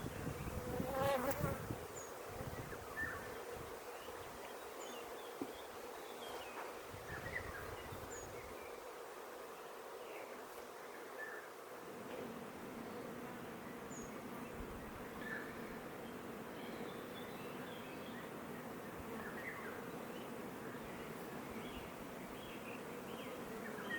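Honey bees buzzing at a beehive with a new generation of brood, a steady, dense droning hum that carries on unbroken throughout, close and moderately loud, with no one talking.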